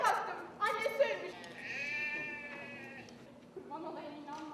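A lamb bleats on stage during a play about Hakkari culture: several wavering, nasal cries come in short bursts and one drawn-out call, close and clear over a quiet background.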